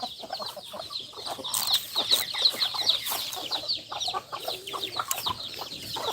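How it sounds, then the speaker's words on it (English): Farm chicks cluck and peep continuously at close range before being fed corn powder, a dense, busy chorus of overlapping bird calls with no talk. "Now these chicks will get a bite to eat."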